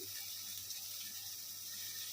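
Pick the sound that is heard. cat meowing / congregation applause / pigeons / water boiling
water boiling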